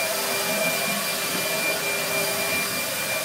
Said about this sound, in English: You can see the boat lift starting to get it up.